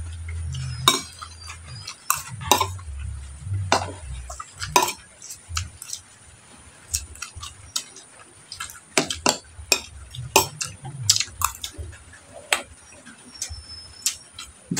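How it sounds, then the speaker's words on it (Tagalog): A spoon clinking against dishes while eating vegetables, repeated sharp metallic taps at irregular intervals across the whole stretch, close, with low murmuring voices in places. "Huwag maingay kutsara."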